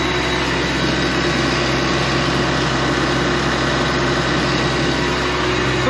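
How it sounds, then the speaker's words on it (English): A Ferguson tractor with a six-cylinder engine of about 120 horsepower runs steadily while powering a Hakki Pilke Falcon 35 firewood processor, a constant loud mechanical drone with no talking. "this Ferguson is probably around about 120 horsepower, six-cylinder engine, and it copes comfortably, more than comfortably, with this processor"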